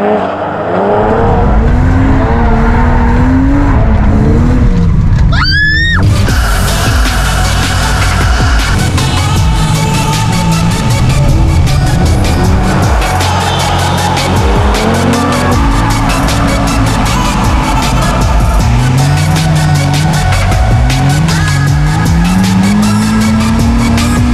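A car drifting on a race track near Daugavpils: a loud, continuous engine roar with sustained tire squeal and skidding, close and unbroken, with no talk.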